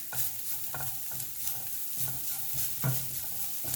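Spices frying in oil on a low flame for a tomato paneer masala, a soft continuous sizzle broken by rhythmic scraping strokes of a stirring spoon, close and fairly quiet.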